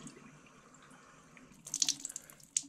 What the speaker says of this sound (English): as we turn the water on, we can see it's coming straight down